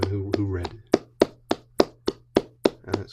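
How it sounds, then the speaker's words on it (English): Several people clap slowly and unevenly together in an online reading event, about nine distinct claps spaced roughly a third of a second apart, following a brief moment of talk at the start. "Give yourselves a round of applause for everyone who read."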